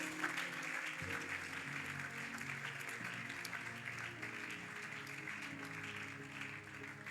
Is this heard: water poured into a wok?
no